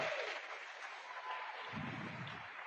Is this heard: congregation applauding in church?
yes